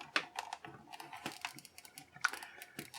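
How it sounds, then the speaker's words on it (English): An X-Acto knife cuts and slices through plastic blister packaging, giving faint, close, irregular crisp clicks and crackles in short bursts against a quiet background. "I got my X-Acto knife here, and we're just going to cut the bubble and slice around it"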